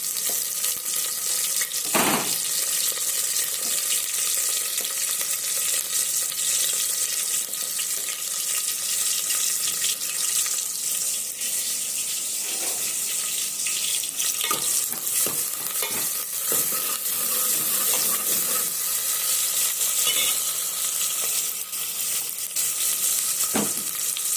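Onions, curry leaves and green chillies fry in hot oil with a loud, steady sizzle, broken by a few clatters from stirring, throughout the clip with no talk.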